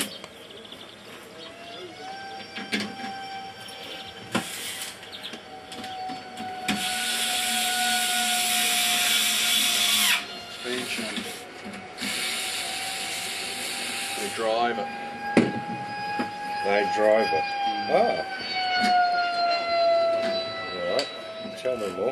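The jet turbine engine of a radio-controlled Hughes 500E model helicopter whines with a steady high tone and a rushing roar that swells for a stretch, while people talk nearby throughout.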